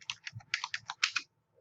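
Quick bursts of typing on a computer keyboard, about a dozen close, crisp key clicks in an uneven rhythm, then a stop and near silence.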